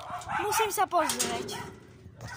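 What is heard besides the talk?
dog barking nearby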